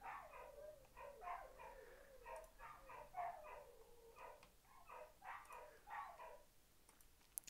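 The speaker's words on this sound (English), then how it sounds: "So I apologize in advance for all the dogs going off." Dogs bark in repeated bursts somewhere in a noisy neighborhood, a series of yaps and barks that are moderately distant and sit over a low background hum.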